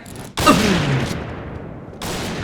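Gunfire in a shooting video game, a loud burst of rapid shots that rings out, a pause, then another volley starting near the end, with no voices.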